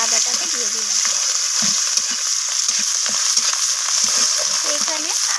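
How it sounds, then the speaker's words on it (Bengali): Grated ginger and tomato fry in a pan for a cauliflower dish, giving a steady close sizzle with light scraping stir sounds throughout and no talking. "তো এখানে আদা টমেটোটা একটু ভাজা ভাজা হয়ে গেছে"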